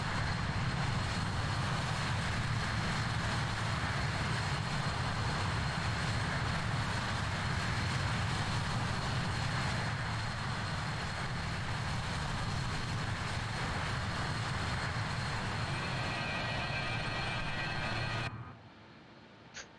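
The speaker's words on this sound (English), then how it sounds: "So this is the BAE 146." BAE 146-300 four-engine jet heard in a flight simulator, a steady, dense engine roar with a constant whine that holds evenly for about eighteen seconds before cutting off abruptly.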